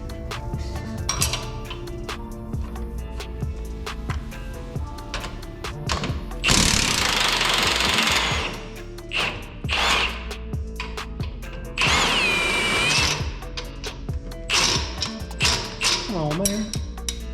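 A power tool whirs in two loud bursts as it undoes bolts on a Jeep's steering while an Adventure steering kit is installed, with metallic clinks of tools between the bursts.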